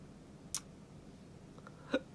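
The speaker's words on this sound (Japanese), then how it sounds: "今まだしゃっくり出る" Two sharp, isolated hiccups from a person, roughly a second and a half apart, close to the mic against a quiet room.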